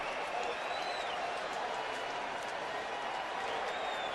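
A Dodger Stadium crowd roars steadily with cheers and applause throughout, a dense and sustained wash of noise during a baseball playoff game.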